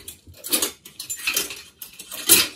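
Kitchen utensils clatter in three quick bursts of clinking metal, spoons and tools knocking together on a counter while syrup is measured for caramel praline bread pudding; close and fairly quiet, with no talking.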